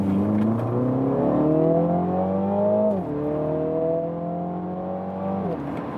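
A 2021 Mini Clubman John Cooper Works with its 306-horsepower 2-liter four-cylinder engine revs up in two long climbing pulls, each dropping back sharply, loud and close with no talking.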